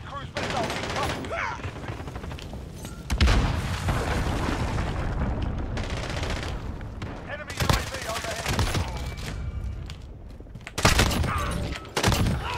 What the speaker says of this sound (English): Enemy cruise missile coming.